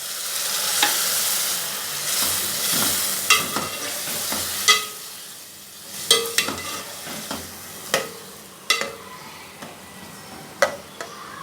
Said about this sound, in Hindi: थोड़ी देर भूनते हैं इसको, टमाटर मिक्स होते हैं थोड़े।